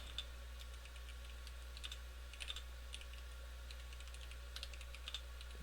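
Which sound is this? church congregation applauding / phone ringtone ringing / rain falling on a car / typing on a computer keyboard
typing on a computer keyboard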